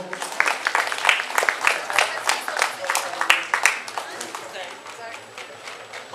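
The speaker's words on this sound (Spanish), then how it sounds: "Vamos a darle un aplauso" An audience claps for a winner at an appliance raffle in Hueyapan. The sharp, uneven claps go on for several seconds, and voices talk underneath before the clapping thins out.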